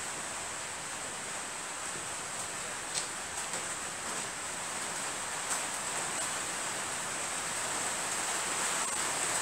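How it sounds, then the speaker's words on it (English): Steady, staticky rain falls outdoors near a BSA Bantam motorcycle being recommissioned, a dense hiss filling the whole stretch with faint scattered ticks and no voices. "Sorry about the rain. It sounded staticky."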